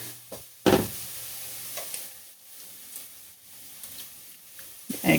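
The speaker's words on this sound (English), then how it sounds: "And we're gonna give these a stir, let the flavors get to know each other." Kimchi stew with Korean red chili paste stirred in a pot, with a loud close scrape early on and then softer intermittent scraping and bubbling sizzle, picking up again at the end.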